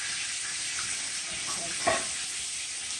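Food sizzles and fries steadily in a pan while being stirred, a continuous close hiss with a brief scrape or clatter near the end and no talking.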